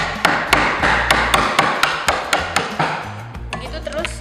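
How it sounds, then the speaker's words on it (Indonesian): A chisel struck repeatedly while cutting a wooden mortise, producing a steady series of sharp, close knocks about every quarter second, with softer, quicker taps at the end. "Terus kemudian dipahat lagi."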